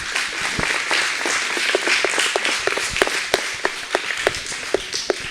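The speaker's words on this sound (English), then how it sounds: "So please give a big round of applause to all the kids." An audience at a school Avatar Day program applauds the children, a dense, steady wash of many hands clapping close by, with no talking over it.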